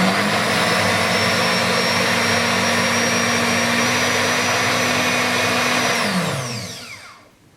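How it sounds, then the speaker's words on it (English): A blender pulping soaked strips of traditionally made paper in water runs with a loud, steady whirring drone, then winds down and stops near the end. "and then put into a blender"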